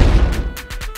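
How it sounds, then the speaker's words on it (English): Explosion sound effect for a video introduction, heavy low-end booms and crashes in quick succession over about a second, loud and close with no speech. "Explosions! Explosions for everyone."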